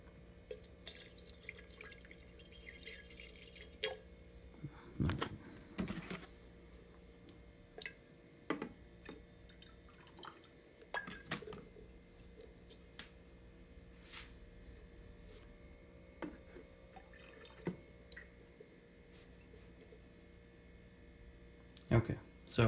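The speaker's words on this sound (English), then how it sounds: "We're gonna add 150 grams of water." Water, 150 grams, drips through a Brewcoat coffee brewer as quiet, irregular drips and small taps over a low steady background.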